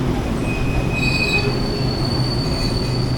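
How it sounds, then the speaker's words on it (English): A train leaving a station near Enoshima, Japan, rumbles steadily past, its wheels squealing in high, drawn-out tones over the constant low roar of the rail cars. "I'm gonna wait here until the train leaves."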